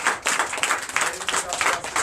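A church congregation claps in a short burst of rhythmic, moderately loud applause during a Sunday service.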